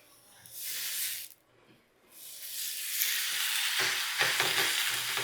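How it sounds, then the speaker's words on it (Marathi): Thalipeeth fries in oil on a hot tawa, a bright hissing sizzle that swells, briefly dies away, then returns steadier with soft crackles, close up; a voice speaks faintly underneath. "हे बघा, थालीपीठ आपल्याला तव्यावर करायचं"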